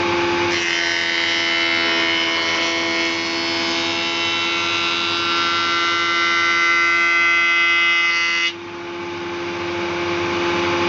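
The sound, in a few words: saw bench cutting a hard piece of wood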